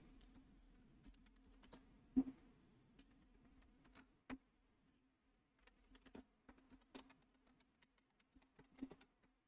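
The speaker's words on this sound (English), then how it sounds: "It's hard to type around a microphone" Computer keys are tapped in short irregular bursts close to a microphone, with quiet clicks over a low steady hum and pauses between the clusters.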